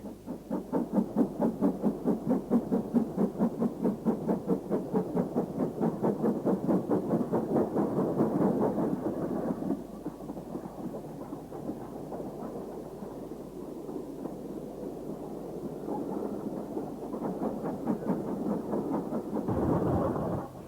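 A Churchward 2-6-2 tank engine, no. 4555, working at Snow Hill, with a fast, steady chuffing exhaust beat and heavy rumble that eases partway through, then picks up again near the end.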